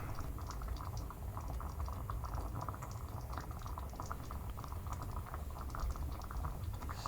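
Curried beans simmering in a pan, a soft continuous low bubbling with faint irregular pops and ticks, quiet and close, without talk.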